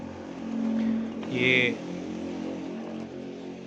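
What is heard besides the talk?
motorbike passing by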